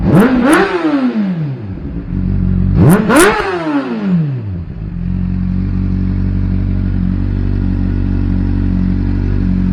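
A 2018 Honda CBR 600RR with its catalytic converter removed revs loudly twice, each sharp rising and falling blip followed by a steady, rumbling idle.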